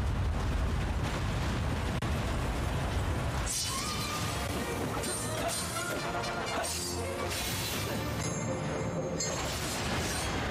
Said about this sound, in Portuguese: E ele tá cortando o canhão todinho.